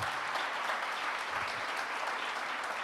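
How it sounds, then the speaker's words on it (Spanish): Strong, sustained applause from a church congregation fills the space evenly from start to finish, with no voices standing out. "Denle un aplauso fuerte al Señor si se lo va a dar"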